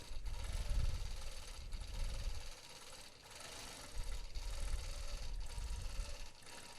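A home sewing machine quilting with variegated thread runs close and steady, its needle chattering in continuous bursts that pause briefly around the middle before resuming, with no voices over it.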